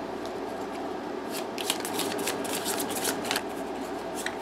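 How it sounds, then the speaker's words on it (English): A deck of cards being shuffled during a tabletop deck-building game, producing a steady run of crisp riffling and rustling bursts, close and alone with no talk. "Time to shuffle."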